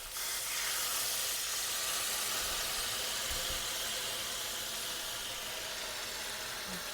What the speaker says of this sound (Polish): Także ja teraz doleję odrobinkę wody, żeby puściło cały ten smak z dna garnka.